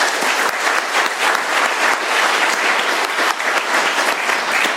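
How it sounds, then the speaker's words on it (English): Steady audience applause at an Alcoholics Anonymous meeting in Doylestown, PA, dense clapping filling the room evenly for about five seconds, with no talking over it. "let's give one more round of applause to our speaker"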